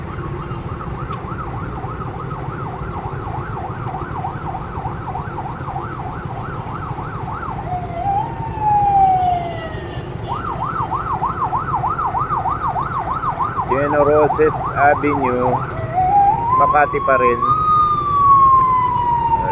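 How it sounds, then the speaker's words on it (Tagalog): An emergency siren wails in repeating rising and falling cycles, then shifts pitch as it passes nearby in traffic, with someone talking over it. "Ayan, may wangwang."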